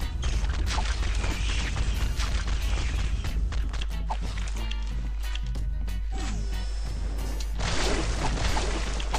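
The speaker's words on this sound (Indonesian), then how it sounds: "Astaga, ada yang meledak." Explosions and combat impacts in the survival shooter LifeAfter, with dense booms, crashes and thuds over constant game noise, loud and continuous.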